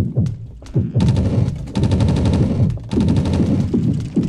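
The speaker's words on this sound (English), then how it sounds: "Books are gonna go flying on like bullets. Machine gun." Rapid machine-gun-like bursts of flying books in the horror game Yomawari: Midnight Shadows, loud dense rattling volleys in several runs separated by brief gaps, with low thuds between.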